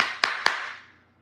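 Hand claps in a quiet room, crisp and close, with each clap trailing into a short fading room tail and no talk; two sharp claps are clearly distinct.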